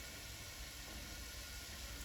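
Boiling water poured down a drain treated with vinegar, a steady continuous rushing hiss that stays even and close throughout with no pauses.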